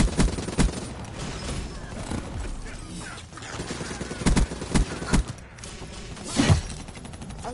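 Gunfire in the game Chaingun Blackmarket: sharp shots and short bursts crack out irregularly over busy game sounds, with a few heavier thumps standing out near the end.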